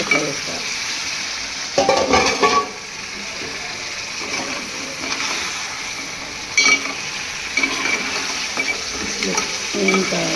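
Large pieces of crab fry and sizzle steadily in a pan while being stirred, with a continuous hiss broken by scraping stir bursts near 2 and 7 seconds; faint voice traces underneath.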